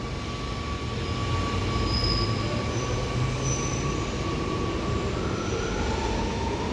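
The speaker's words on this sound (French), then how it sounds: "Mais je trouve vraiment plus original le moteur du M5." Amsterdam metro M5 train running, a continuous loud rumbling drone with steady whining motor tones and faint rail squeal, heard from inside the car with no talk.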